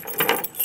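Keys jangling as someone empties a pocketful of keys, a short bright metallic rattle with a couple of clinking bursts, close and fairly loud, no talking.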